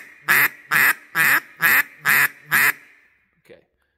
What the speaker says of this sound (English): Just in the quacks, I'm noticing it's a lot louder of a call.